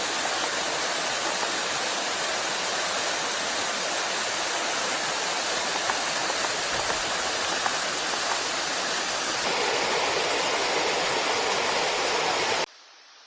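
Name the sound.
small waterfall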